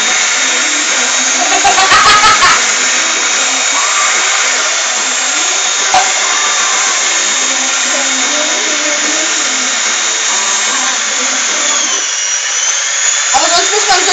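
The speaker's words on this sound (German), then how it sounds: "Ja, aber wer nimmt heutzutage schon eine Bohrmaschine?" A loud, continuous high whine comes from an electric drill whipping cream in a home kitchen in place of a mixer, running steadily throughout while people talk beneath the noise.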